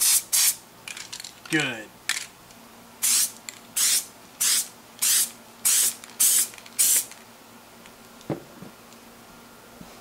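All City blue spray paint hissing onto skateboard griptape through a stencil in a run of about nine short, loud bursts, with a can rattle and a brief spoken word.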